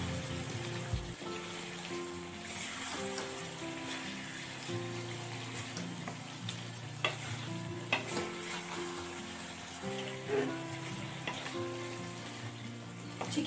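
Chicken and spice paste fry in hot oil with a constant crackling sizzle, while a spoon scrapes and stirs through the pan in irregular strokes, close up with no talking.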